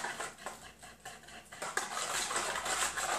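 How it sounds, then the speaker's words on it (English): A whisk scraping and clinking against a bowl while stirring pumpkin puree custard mixture, quiet rhythmic rattling strokes close by, continuous throughout. "either using a whisk like I am or a fork, you're going to stir that up"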